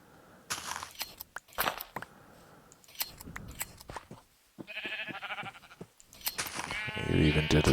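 In the Minecraft video game, sheep eat grass in short, crisp, repeated munching bursts, with blocky bleats and a rising game effect near the end, while someone talks over them.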